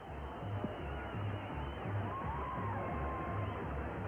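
A standing-room-only crowd fills a boxing arena in Laredo, Texas with a steady murmur and scattered cheers, kept low under a broadcast-band haze.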